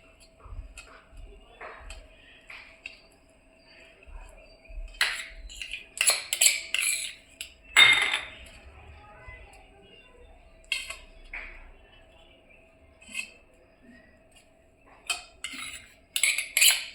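A spoon scraping and clinking as garlic masala is spread over bread, sparse close dabs and scrapes with quiet pauses between, plus a few louder clinks against a dish.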